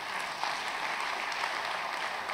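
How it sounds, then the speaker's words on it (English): Steady round of audience applause at a bank tech fair conference, sustained, even clapping from a crowd, fairly faint and distant throughout with no talking over it. "I think Zenith Bank deserves a round of applause there."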